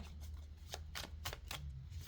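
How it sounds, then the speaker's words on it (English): Tarot cards shuffled by hand in several quick riffling bursts, close and crisp, over a steady low hum, with no talking. "Let's just give it a nice good shuffle here."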